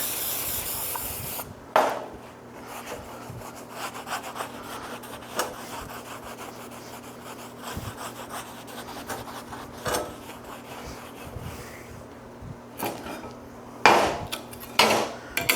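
Metal is wiped down with a flammable solvent in a fabrication shop before welding, heard as close rubbing and wiping strokes with scattered sharp clicks and knocks of metal, no talk.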